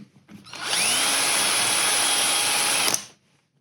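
Close, loud power drill whirring: it ramps up quickly, holds a steady high-pitched spin for a couple of seconds, then winds down.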